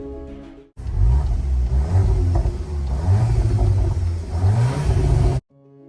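A Volkswagen Golf 8 R fitted with the R Performance package's Akrapovic exhaust revs hard at close range, deep engine notes climbing and falling in repeated surges, then cutting off abruptly.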